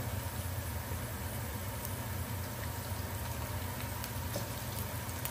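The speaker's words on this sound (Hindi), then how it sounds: "जो मैंने 1 किलो मटन लिया था उसको मैं इसी तरह इसमें डाल के इसको अच्छी तरह भूनना है।" 1 kg of mutton frying in a browning garlic, ginger and onion masala, giving a steady, even sizzle and crackle that holds throughout with no talk over it.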